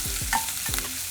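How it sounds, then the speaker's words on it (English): Garlic and ginger sizzle softly in a pan over moderate heat, with a few scraping stirs of a utensil, gentle and close, without any voices. "just a little sizzle."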